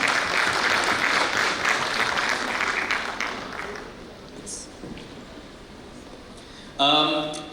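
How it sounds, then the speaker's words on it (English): A conference audience claps loudly for several seconds, the applause gradually thinning out before a voice speaks briefly at the end. "Huge round of applause, please."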